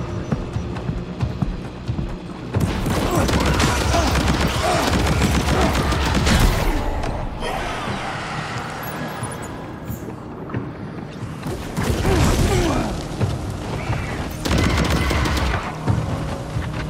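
A grenade launcher fires during combat in the video game Death Stranding 2, with loud, dense bursts of explosions and gunfire in waves separated by brief quieter gaps.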